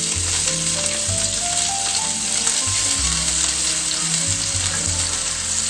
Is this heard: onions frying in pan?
yes